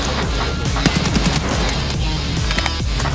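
Rapid automatic gunfire in the video game Escape from Tarkov, dense loud bursts of shots fired close and without pause, with no talking.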